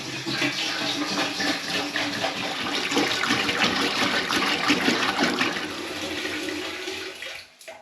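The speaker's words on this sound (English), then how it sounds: "So I'm going to begin by emptying this 5 litres of spring water into this" Five litres of spring water pour steadily from a container into a pan for home-brewing stout, making a loud, continuous splashing gush that cuts off near the end.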